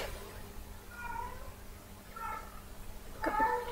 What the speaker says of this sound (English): How can a cat be in heat for that long?